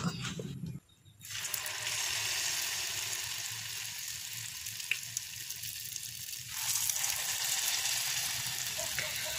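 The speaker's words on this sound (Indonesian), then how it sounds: "kita ambil adonannya ini untuk digoreng ke dalam wajan satu per satu" Steady sizzling and crackling of cassava dough frying in hot oil in a wok over medium-low heat, with a brief dip early on and a louder burst of sizzle near the end.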